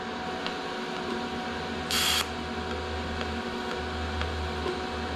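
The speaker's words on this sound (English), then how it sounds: "start by getting some tacks put on this piece" A single brief TIG welding tack on steel gives a short, sharp buzzing hiss of about a quarter second against a low steady hum of shop background noise.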